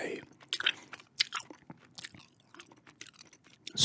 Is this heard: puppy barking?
no